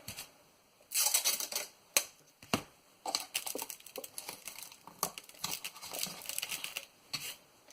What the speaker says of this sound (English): I go all the way around with my tape